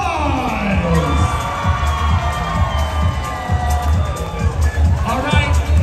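A crowd at a men's competition aboard a cruise ship cheering, whooping and shouting loudly and continuously, with an announcer's voice mixed into the noise.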